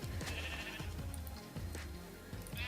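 Sheep bleat in Minecraft, a few short wavering calls from nearby animals over a busy, steady game backdrop.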